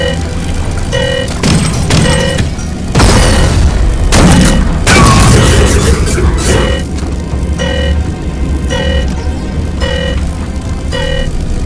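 Heavy booms and bursts of fire while shooting down an assembly unit in the video game Akimbot, loud and dense over a driving game soundtrack, with a voice calling out.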